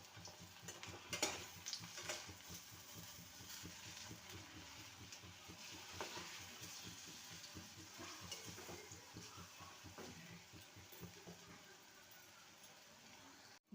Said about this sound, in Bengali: বড়াগুলোকে লাল করে ভেজে নিয়েছি এবার তুলে নেব